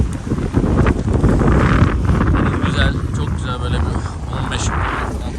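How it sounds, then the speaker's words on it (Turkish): Strong wind buffets a sailboat at sea, with broadband gusting roar and rushing water throughout, loud and close, under someone speaking. "rüzgar var. Full armayız."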